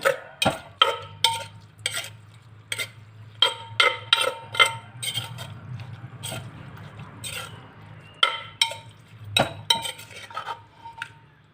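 A spoon stirs Thai straw mushroom soup in a pot after spring onions and shallots go in, making a string of sharp metallic clinks against the pot over a low, steady simmering bubble.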